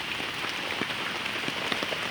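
Light rain falling outdoors by a house, a steady soft patter with scattered distinct drops tapping on a surface, faint and even throughout.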